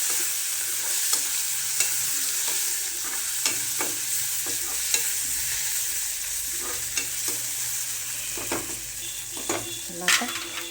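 Tomatoes are stirred into vegetables frying in a pan for a spicy green-chili and dill dish, a steady oily sizzle with repeated scraping and clicking stirs spread through the sound.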